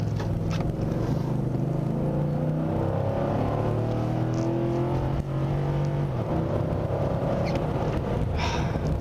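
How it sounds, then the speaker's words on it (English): A Nissan Titan V8 idles with a steady, deep rumble and layered low harmonics that drift slightly in pitch, close and continuous with no voices. "hearing this engine purr"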